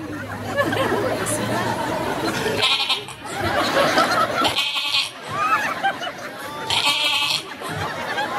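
A man imitates a goat's bleat with wavering, nasal cries amid a crowd's chatter and murmurs at a Maulid Nabi gathering, the bleats rising in short bursts over the talk.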